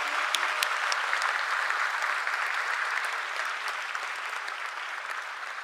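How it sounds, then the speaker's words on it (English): Steady, dense applause from a large audience at a university convocation for medical sciences graduates in Bhutan, sustained and even throughout with only a slight easing toward the end. "a huge round of applause to the Faculty of Nursing and Public Health"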